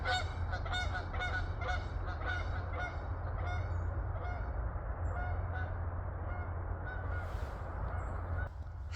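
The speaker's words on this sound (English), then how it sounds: "we're about to get some geese somewhere" A flock of geese honks repeatedly in the distance outdoors, the calls overlapping in an irregular chorus over a steady low rumble of background noise.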